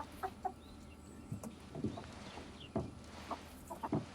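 Chickens cluck softly nearby in a quiet rural setting, with scattered short clucks and low murmurs spread irregularly over a few seconds.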